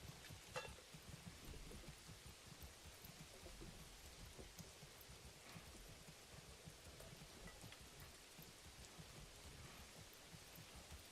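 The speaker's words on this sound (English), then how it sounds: "Nice little rain." Steady rain falls in the medieval city-building video game Manor Lords, a soft, even hiss of drops that carries on for the whole stretch with no voices.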